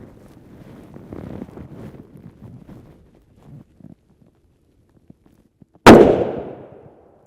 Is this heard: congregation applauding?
no